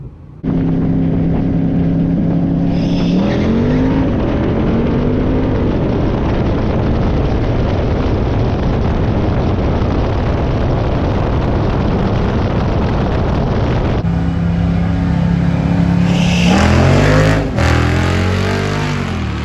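A Jeep Wrangler Rubicon 392 on massive tires drag racing, with a loud continuous engine roar, rising gear-change sweeps near the start and again near the end, sustained at full volume throughout.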